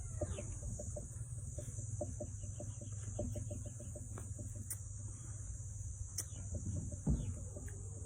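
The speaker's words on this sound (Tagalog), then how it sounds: "Native na manok." Native chicken clucking in a rural setting, a quiet series of short repeated clucks over a steady bed of insect chirring and a constant high hum, with no one talking.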